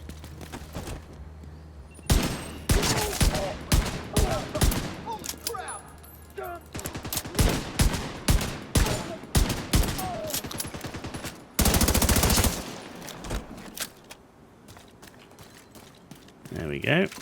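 Gunfire in the video game The Division 2: bursts of rapid automatic shots and single cracks at close range, a long sustained burst near the end, mixed with footsteps and a player talking.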